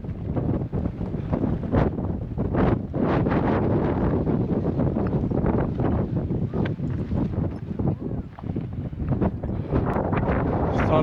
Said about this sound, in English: I can tell you that wind there is very strong